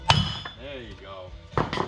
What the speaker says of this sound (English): I'm just getting ready to stake this rotor to the hub, secure it in place instead of the old drum